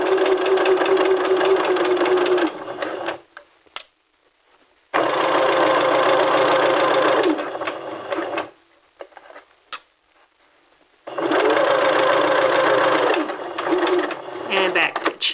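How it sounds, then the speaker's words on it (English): A sewing machine stitches stay tape onto a dress in three long, loud, steady motor runs, each lasting a few seconds and separated by short quiet pauses. "we're going to backstitch. And then stitch all the way to the end"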